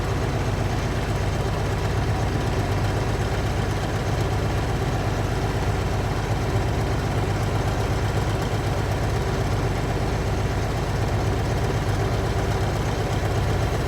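A Class A truck's diesel engine idles at raised RPM, held below 1,000, to build maximum air-brake pressure, giving a steady, loud, low rumble throughout with no talking.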